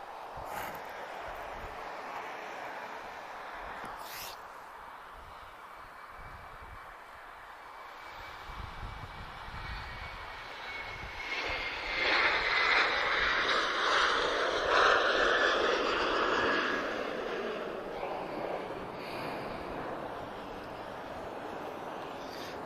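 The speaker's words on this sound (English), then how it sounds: "Ryanair's already on the move. Off to Lajes, funny enough. Foxtrot Romeo 6066. 737-800 about to go." A Ryanair Boeing 737-800 bound for Lajes takes off at Lisbon Airport. A low background rumble builds into a loud, broad jet roar with a rising whine, peaking midway, then holds and slowly fades.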